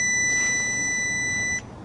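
A multimeter in continuity mode gives one steady, high-pitched electronic beep that holds for about a second and a half and then cuts off, leaving quiet room noise.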